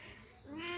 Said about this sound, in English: That was my cat, Bira.